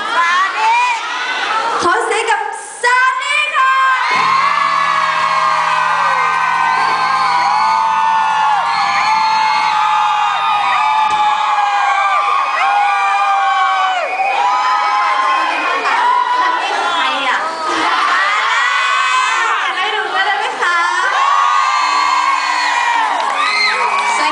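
A concert crowd at a mini-concert cheers continuously, with shrill screams and whoops rising and falling, loud and dense throughout, while an announcer's voice breaks in briefly over the noise.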